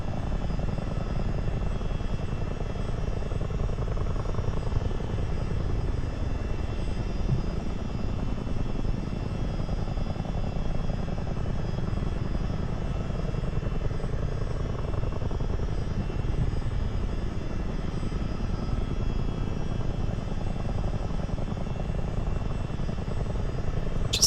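A Miltech CH47 Chinook heavy twin-rotor helicopter in Microsoft Flight Simulator drones steadily from inside with a constant low engine and rotor rumble, loud and unbroken, and no one speaks.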